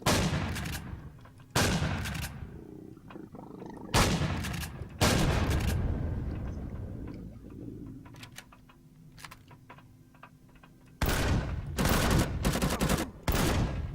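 Shotgun blasts fired at robots in the sci-fi survival game Empyrion: Galactic Survival during a station assault, with several loud, sharp booming bursts spaced apart, each followed by a decaying tail, and a quieter stretch in between.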